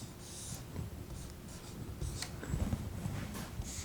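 Pen or pencil scratching on paper while the quadratic formula is written out, with soft, close, intermittent strokes and short pauses, alone in a quiet room.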